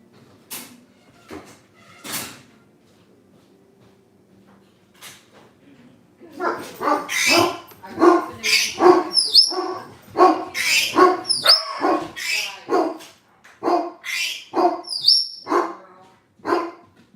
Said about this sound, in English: the dogs are gonna go nuts